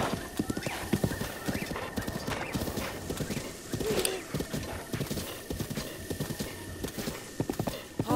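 A horse gallops in a Zelda video game, with fast, close, rhythmic hoofbeats and an occasional whinny under quiet game ambience.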